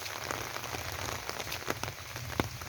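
Steady rain drums on the partly thatched roof of a Buddhist temple hall in Luang Prabang, a dense continuous patter with scattered sharper drips, moderately loud and with no voices.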